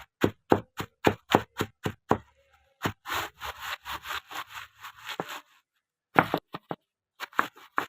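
Dried eggshells crushed by hand, a quick run of sharp crackling crunches in tight bursts, close and crisp, broken by a few short pauses.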